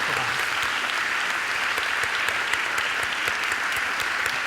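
A large audience at an academic convocation gives sustained applause, a loud, continuous and evenly textured roar of clapping from start to finish.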